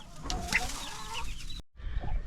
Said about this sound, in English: I have a broody hen.